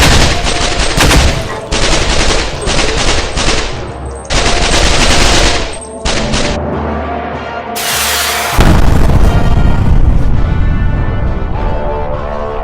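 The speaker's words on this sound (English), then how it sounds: "they're throwing fucking mortars!" Mortar blasts and heavy automatic gunfire crash together in a Garry's Mod battle, loud and nearly continuous, with rapid bursts and one big explosion near the middle. No one speaks.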